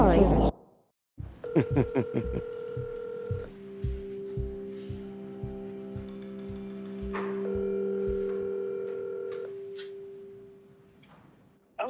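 Telephone network call-progress tones on a Verizon Wireless line when a call cannot be completed as dialed: steady sustained tones with stepped pitch changes and repeated short beeps, with a recorded voice speaking over them.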